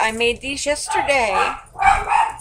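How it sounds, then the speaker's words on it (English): A pet dog barks a few times indoors, close by, as a person speaks over it during a bead-dangle crafting session. "Sorry about my dog barking."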